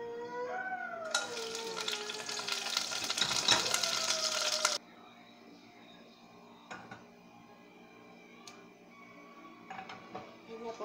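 Cardamom and cinnamon stick sizzling in hot ghee in a pan for polao, a loud frying hiss for several seconds that drops to a quieter sizzle with light clinks, with someone speaking softly.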